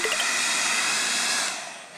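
An electric hairdryer runs in a loud, steady whoosh of blown air, holding constant before dipping slightly near the end as though moved or switched down, with no talking.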